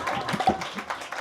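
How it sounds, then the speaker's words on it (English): A short burst of audience applause at a devotional drama performance, with brief scattered claps that rise and fade within about a second. "Give the maidservant a round of applause."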